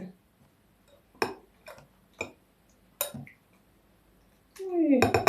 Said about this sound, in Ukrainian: І перемішую це все.